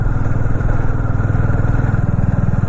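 A motorcycle engine runs steadily and loud up close with a rapid, even throb while riding a mountain road on the way from Yamunotri to Gangotri. No one speaks.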